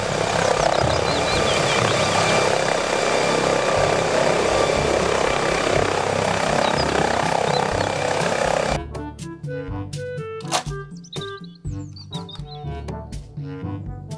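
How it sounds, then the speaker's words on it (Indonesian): A toy helicopter's steady whirring rotor-and-engine drone, loud and continuous, then it gives way to clicking electronic effects and beeps. "Helikopter"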